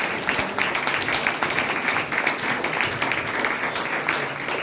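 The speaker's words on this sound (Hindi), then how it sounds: "एक बार जोरदार ताली बजाइएगा।" A dense, continuous round of audience clapping at an indoor gathering in Bhagwanpur, steady and fairly loud throughout, with faint voices mixed in.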